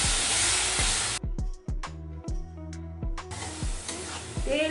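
Spices sizzle loudly in a hot pan as water is poured in, a burst of hissing steam that quiets into scraping stir strokes and then returns to a strong sizzle, with okra for an achari bhindi dish.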